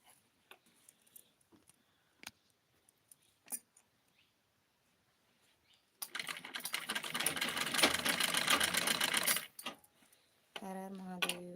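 A sewing machine stitching in a home, a dense rapid mechanical whir in one sustained burst after scattered light taps and clicks, then a voice singing at the end.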